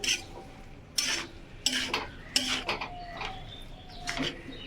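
Spinach with salt being stirred in a pan, several distinct scraping and clinking strokes of a utensil against the pan at an irregular rhythm, fairly quiet with faint background sounds and no talking.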